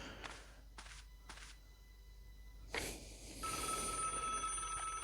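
A telephone rings in the point-and-click adventure game Broken Sword, a few short bursts of bright ringing early on, followed by a louder sustained tone against a quiet background with no talking.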